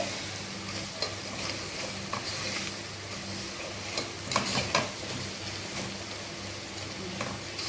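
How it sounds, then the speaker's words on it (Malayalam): Camel meat curry masala with turmeric and chili powder stirred in a hot pan, a steady close sizzle with occasional scraping strokes and soft clacks, no voices. "ഒന്ന് നല്ലോണം ഇളക്കി യോജിപ്പിച്ച്"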